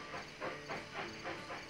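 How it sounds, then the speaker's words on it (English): Steam train running in the Railroad Tycoon 3 game, a steady hiss with rhythmic chuffing pulses about every quarter second, close and continuous with no talk. "This train is so bloody slow."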